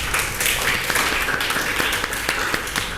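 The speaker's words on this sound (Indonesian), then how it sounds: "Beri aplaus untuk kelompok 2." A classroom group claps for group 2 after their presentation, a steady patter of many hands sustained for the whole stretch at moderate loudness, with faint voices mixed in.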